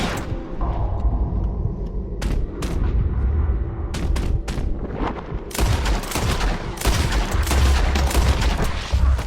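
Gunfire in the Red Dead Redemption 2 video game: scattered sharp shots over a low rumble, then a dense fusillade of overlapping rapid reports from about midway, loud and close.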